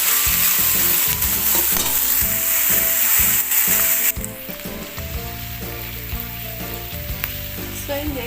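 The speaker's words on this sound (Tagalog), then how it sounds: "ihalo na rin natin itong mushroom" Mushrooms being stirred into creamy carbonara frying in a pan, with a steady loud sizzle and scraping stir strokes throughout; the sizzle drops slightly partway through as the ingredients are mixed in.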